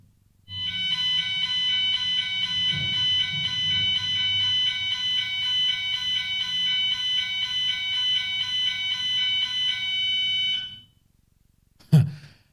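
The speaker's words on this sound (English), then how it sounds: "that alarm just drives me crazy sometimes." An electronic alarm goes off nearby, a loud, steady, high-pitched buzzing tone with a pulsing edge that holds for about ten seconds, then stops abruptly, followed by a brief thump.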